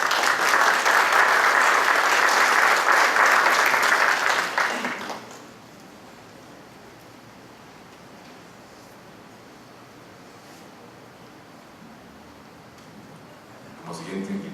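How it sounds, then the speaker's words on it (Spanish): Audience applause welcoming architect Miguel Cruchaga Belaunde as a panelist at a housing and development conference, a loud dense burst for about five seconds that drops abruptly to quiet room tone, with a brief swell again at the very end. "Recibamos por favor con un fuerte aplauso al arquitecto Miguel Cruchaga Belaunde."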